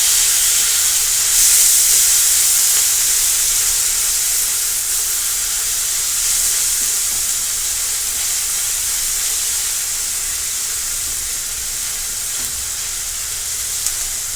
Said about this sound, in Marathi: आता टोमॅटो टाकून घेणार आहोत आपण टोमॅटो देखील व्यवस्थित तेलामध्ये परतून घेणार आहोत